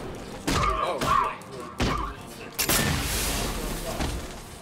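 Explosions and combat impacts from the video game Batman Arkham Knight, several heavy booming blasts and thuds, one large burst followed by a rumbling, debris-filled tail, with faint game sounds underneath.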